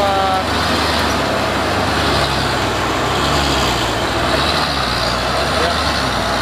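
A heavy diesel truck's engine runs at full throttle on a climb, a loud, close, sustained roar with road noise underneath that holds steady the whole time.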